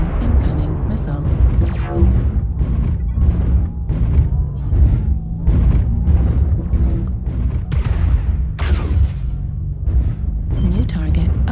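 Repeated booming missile impacts and explosions in the MechWarrior Online battle game, loud and dense throughout, with a heavy low rumble and bursts of crashing blasts stacked close together.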